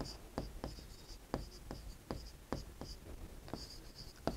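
Chalk or marker writing on a board during a geometry lesson, with a series of quick, faint taps and strokes in an irregular rhythm and no talking over them.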